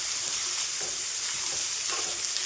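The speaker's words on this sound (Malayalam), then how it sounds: "സവാള നമുക്കൊന്ന് ഇളക്കി കൊടുക്കാം. നന്നായിട്ടൊന്ന് വഴണ്ട് വരട്ടെ." Sliced onions sizzle steadily in a hot pan for an egg rice dish, with a bright continuous frying hiss and soft scraping stirs now and then, close up and without talk.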